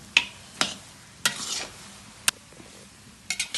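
A utensil scrapes and clacks against a metal wok in a few sharp, irregular strokes while mixing khoya, with soft stirring in between and no voices.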